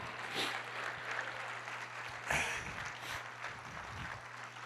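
Church congregation applauding, a faint, continuous patter of many hands clapping at a distance, steady and low, with no clear voices over it.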